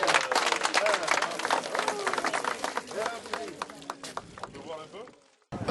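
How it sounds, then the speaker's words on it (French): A crowd applauds loudly at a borehole water-jet inauguration ceremony, dense clapping mixed with cheers and voices that fades near the end before a brief silence. "On applaudit très fort."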